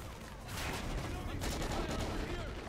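Dense, rapid gunfire fills a first-person shooter Domination match, with overlapping shots in a continuous barrage at moderate loudness.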